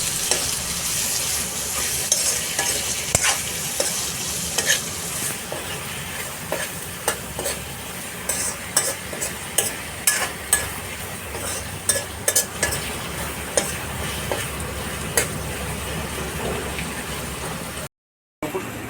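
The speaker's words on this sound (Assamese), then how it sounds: "এতিয়া বিলাহীখিনি মই অকণমান ফ্ৰাই কৰি ল'ম।" Tomatoes fry in a pan with a steady, dense sizzle, punctuated by frequent sharp scrapes and taps as they are stirred, close and continuous until a brief cut near the end.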